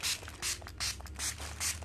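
Water sprayer misting a mushroom grow bag, five short hissing bursts in a steady rhythm, close and fairly loud with faint handling noise between sprays.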